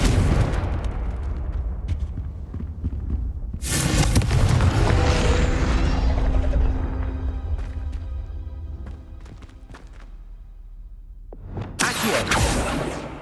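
Confringo blasting spells exploding in the Hogwarts Legacy video game: a loud, broad boom with a long rumbling tail, then a quieter stretch of game ambience before a second sharp blast bursts near the end.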